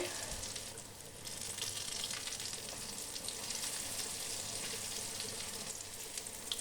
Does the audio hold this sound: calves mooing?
no